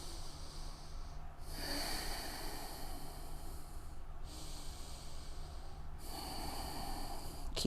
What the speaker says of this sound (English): Breathe. 4 deep breaths here.